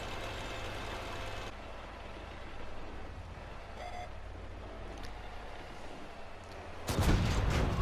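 Volk T44-100 tank in World of Tanks on console lets off a single loud cannon blast near the end, after a steady engine rumble and quieter battle noise.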